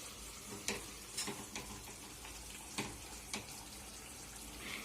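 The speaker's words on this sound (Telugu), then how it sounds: "పెరుగు కూడా మొత్తం కలిసే విధంగా మిక్స్ చేసుకోండి." Yogurt being stirred into Mughlai chicken in a hot pan, heard as a faint background sizzle with a few light spoon scrapes and taps scattered throughout, quiet and without talk.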